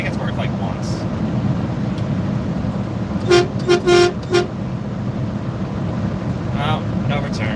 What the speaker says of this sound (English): Let's give him a little honk.